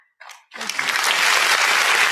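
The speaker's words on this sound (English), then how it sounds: "A round of applause for His Excellency." After a brief voice, applause breaks out and quickly swells into steady, full clapping from a crowd.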